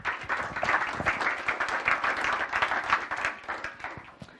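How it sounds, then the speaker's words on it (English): An audience applauds at a morning talk event in Paris, brisk and even clapping from a roomful of people sustained for several seconds, fairly near and with no talk over it. "So if you guys could give a round of applause to Robin Chase."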